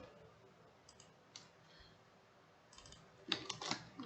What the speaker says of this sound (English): let's type what we have to offer